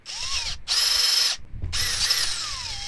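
A power drill runs in two loud, steady bursts with a brief pause between them, its motor whine shifting in pitch as it drills during work on an emergency starting system for a marine engine.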